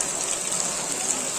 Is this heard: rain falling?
yes